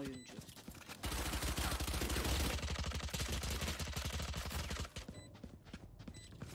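Enemy in Valorant emptying a full magazine: a long, rapid stream of gunshots, fairly quiet and distant, preceded and followed by softer game noise.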